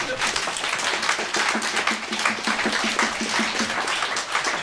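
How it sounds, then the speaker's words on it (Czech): Audience applause in a concert hall for a performer named Ondra during a Moravian cimbalom band performance, steady and dense, filling the whole stretch. "ale prosím vás, zatleskejte Ondrovi"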